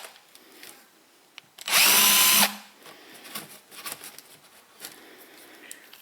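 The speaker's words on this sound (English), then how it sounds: "I'm gonna drill through that" A power drill whirs loudly in one short burst, boring a pilot hole through a plastic gas can, with quieter handling clatter and rustling before and after.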